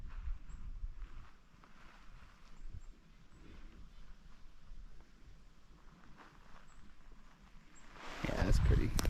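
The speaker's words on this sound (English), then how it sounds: "It's a little windy today, but not too bad at all." Wind blowing along the Appalachian Trail through the 100 Mile Wilderness in Maine in autumn, a steady low rush of gusts and microphone buffeting that swells louder near the end.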